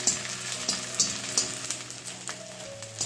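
Rice-flour papad frying in hot oil, a steady crackling sizzle with sharp bursts of popping throughout, close and fairly loud with no talk.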